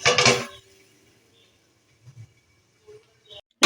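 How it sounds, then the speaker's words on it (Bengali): A metal lid set onto a cooking pot of pumpkin with salt gives one sharp clattering clink at the start, followed by quiet kitchen sounds and a few faint taps. "ঢাকাটা আমি দিয়ে দিলাম"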